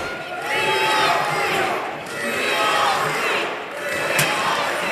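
A large wrestling crowd in an arena keeps up a loud, sustained, rhythmic chant that swells and dips in waves, with the noise filling the space throughout.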